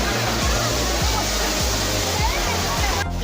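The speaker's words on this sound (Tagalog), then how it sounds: "Buwis buhay magpa-picture dito guys, mababasa ka sa talsik ng tubig." Indoor waterfall at Singapore's Cloud Forest, water crashing and splashing in a loud, continuous roar close by.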